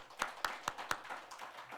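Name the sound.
congregation clapping for a birthday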